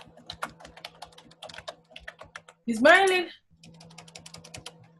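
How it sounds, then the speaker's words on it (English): Rapid keyboard typing with many small clicks and taps runs steadily through most of the clip, broken by a brief louder burst, while a voice talks lightly over it during an online group party. "Oh, she's typing."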